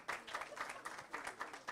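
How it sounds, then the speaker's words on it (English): A faint, distant round of applause from a convention audience on ecosystem and civic education, quick rhythmic clapping pulsing steadily through the short stretch. "another round of applause, please,"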